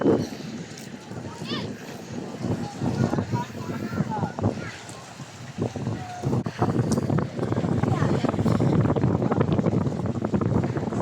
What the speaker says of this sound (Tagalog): talagang malakas po ang hangin dito. Malakas po ang hangin.